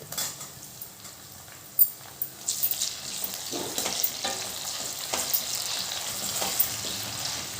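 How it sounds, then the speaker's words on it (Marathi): Onion sautéing in oil for sambar, a close frying sizzle that builds over the clip, with scraping stirs and a clink of a spoon against the pan, and no talking. "आता आपल्याला कांदा चांगला मस्त शेकून घ्यायचा आहे तेलामध्ये"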